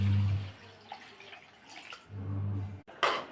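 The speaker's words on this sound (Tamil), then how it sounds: "இப்போ இந்த குழம்புக்கு தேவையான அளவுக்கு தண்ணி ஊற்றிக்கலாம்." Water poured into a pot of South Indian kuzhambu curry with groundnuts and elephant-foot yam, a low steady splashing stream that stops, resumes, then ends with a brief bright splash.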